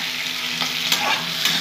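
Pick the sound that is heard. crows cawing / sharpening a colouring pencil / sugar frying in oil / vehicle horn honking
sugar frying in oil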